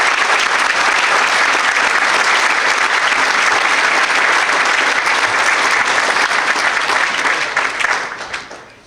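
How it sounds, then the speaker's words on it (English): Audience at a St. Paul police awards ceremony applauding, dense sustained clapping from a large crowd that holds steady for several seconds, then fades out at the end. "Let's give them a round of applause."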